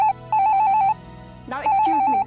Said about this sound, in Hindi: टेलीफोन की घंटी बज रही है और शायद मेरा ही फोन होगा।